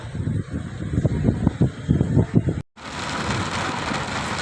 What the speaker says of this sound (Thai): ฝนตกละทางแล้ว